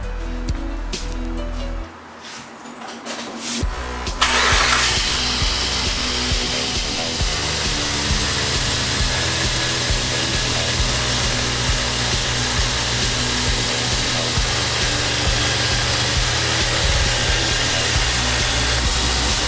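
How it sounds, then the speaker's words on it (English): A Jeep Grand Cherokee engine starts with a sudden surge, then settles into a steady, loud idle that runs unchanged for a long stretch. "start the engine and let it idle for about 10 minutes"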